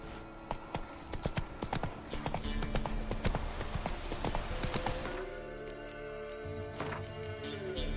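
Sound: horse Roach galloping in video game The Witcher 3

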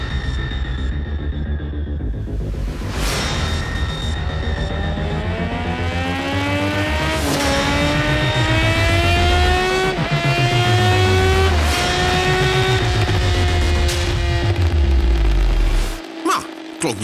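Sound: Suzuki GSX-S1000 motorcycle engine revving

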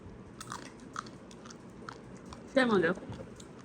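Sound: cracking open and eating fried crab

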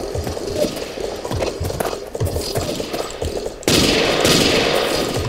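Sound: gunfire in the video game Ace of Spades

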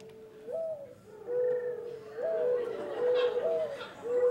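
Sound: doves cooing in an aviary

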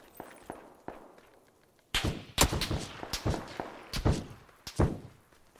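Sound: gunfire from enemies in a video game

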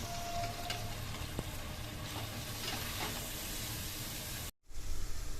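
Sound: spices and ginger-garlic paste being sautéed in a pan

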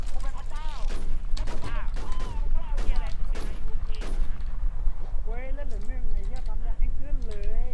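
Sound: gunfire from a shooting video game

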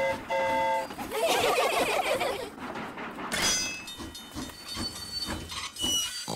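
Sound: cartoon train running on the track

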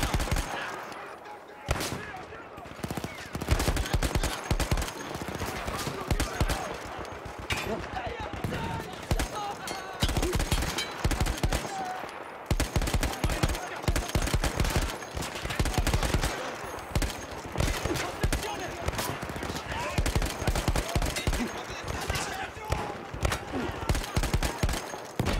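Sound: gunfire from a weapon in the video game Battlefield 1

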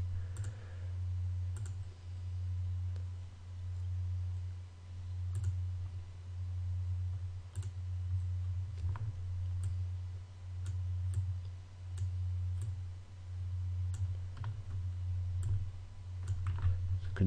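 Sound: computer mouse clicking while drawing in GIMP

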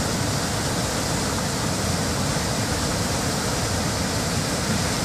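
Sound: heavy rush of floodwater released through floodgates

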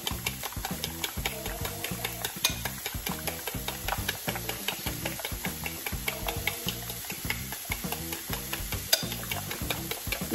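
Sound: whisking eggs with a fork

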